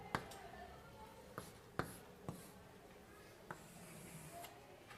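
Chalk or marker writes on a board during a calculus lecture, with faint scratching and several sharp taps as strokes begin, heard at a distance in a quiet room.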